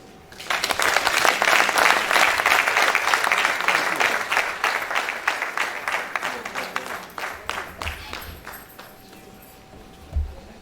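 Lecture-hall audience applauding after a valedictory lecture, loud rapid clapping that peaks early and gradually thins into scattered claps, with a brief voice and a bump of handling noise at the close.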